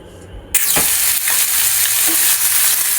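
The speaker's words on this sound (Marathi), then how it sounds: "कांदा फ्राय करायला लागला" Onion frying in a frying pan in a home kitchen after paneer was browned, a loud sizzle that bursts in suddenly and then hisses steadily and close, with faint stirring scrapes.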